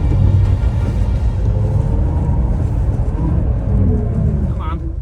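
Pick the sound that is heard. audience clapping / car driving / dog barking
car driving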